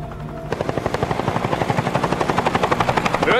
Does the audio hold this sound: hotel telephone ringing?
no